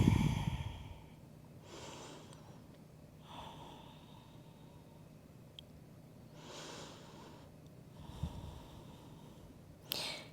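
Slow, soft breaths and sighing exhales come during a yoga forward fold in a slow flow class, quiet and close with gaps of near silence between breaths.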